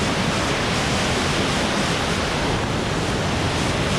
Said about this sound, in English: Another little waterfall right here.